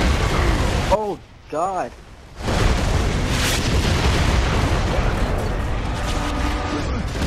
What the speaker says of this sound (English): a bunch of mortars just went right in front of me